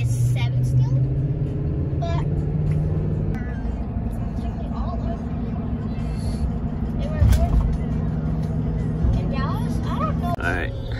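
Toyota Tundra with a 5.7 V8 and a K&N air filter, heard from inside the cab, rumbling steadily at a loud level with some rises in engine note, people talking over it.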